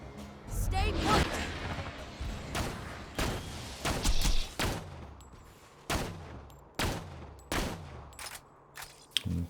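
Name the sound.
gunfire from shooting an enemy in Borderlands 3 video game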